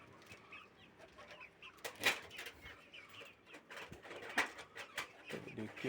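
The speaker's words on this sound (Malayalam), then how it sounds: "ഇതാ കറുത്ത കാപ്പിരി പൂവൻ" A black Kappiri rooster shut in a coop gives short clucks and two sharper calls amid faint farmyard bird noise, fairly close.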